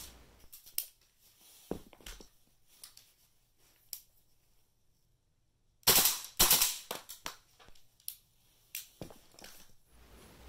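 A gas blowback airsoft gun firing 0.28 gram BBs at 350 feet per second at a GoPro lens: scattered sharp snaps and clicks, with a dense burst of cracking impacts midway and irregular pops after.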